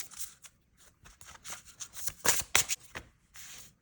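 Oracle cards being shuffled by hand, with quiet rapid riffling and papery flicks in uneven bursts, close up and without talking.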